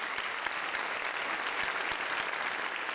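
Steady, dense applause from an audience at a school district awards ceremony honoring teachers of the year, sustained evenly throughout with no talking over it.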